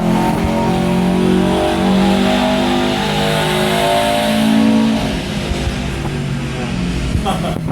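A 2011 Subaru WRX STI engine revving hard on a dyno during a tune inside an enclosed booth, a loud sustained roar climbing in pitch, then easing off.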